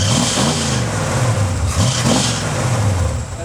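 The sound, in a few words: squealing aftermarket engine fan on a running 1971 Ford Mustang Mach 1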